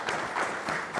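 An audience at a Spanish-language forum on water-sector trades and employment gives a brief round of applause, moderate in level and steady across its short length.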